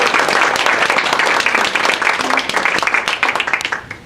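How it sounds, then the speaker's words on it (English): A room of attendees at a Kiwanis club meeting claps to welcome a pianist, producing loud, close, dense applause that holds steady and then thins slightly toward the end. "If we can all give him a round of applause."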